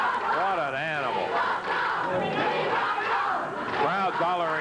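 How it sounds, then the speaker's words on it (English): A 1986 wrestling arena crowd hollers and chants in unison, a loud, dense roar of rising and falling voices that fills the whole stretch without a break. "Crowd hollering, we want Paul."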